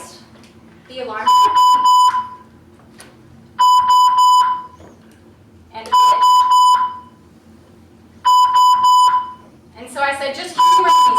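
An electronic alarm beeps in four repeated bursts, each a rapid train of high piercing tones, separated by pauses where a voice speaks quietly.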